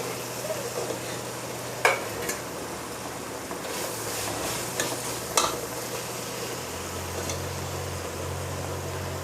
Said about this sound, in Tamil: இப்போ நம்ம வந்து நறுக்கி வச்சுருக்க காய்கறிகளை இதில் சேர்க்க போகிறோம்.